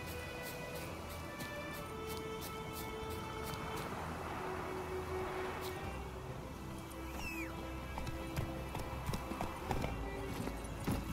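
Horse hooves clip-clop in The Witcher 3 Wild Hunt, a faint, continuous rhythmic patter under a low ambient game bed, with an occasional soft whinny.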